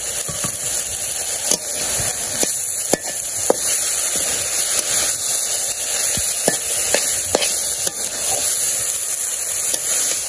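Pre-fried onions go into a hot pan, giving a loud, steady sizzling hiss broken by sharp clicks and scrapes of stirring.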